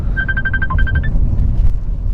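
A phone ringtone plays a quick run of repeated electronic beeps, fairly loud over a low steady background hum, then stops partway through.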